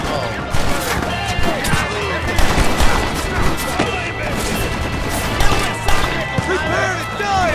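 Gunfire in the Red Dead Redemption video game, with dense, overlapping shots and crashes running throughout alongside shouting voices and a busy game soundtrack.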